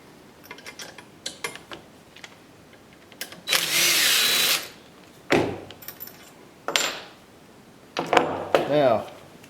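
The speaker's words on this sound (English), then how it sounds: "this is where a little impact wrench with a 4mm Allen socket comes in handy" A small impact wrench fitted with a 4mm Allen socket drives nuts while a Onefinity Elite Foreman CNC machine is assembled. It gives several short, loud bursts of buzzing hammering separated by quiet handling clicks.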